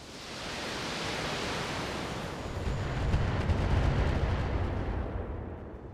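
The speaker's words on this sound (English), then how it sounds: "Lot of missiles there." Volleys of missiles launch and detonate in the BattleTech mech game, a dense roaring wash of rumbling blasts that builds and swells toward the middle, loud and continuous with no talking.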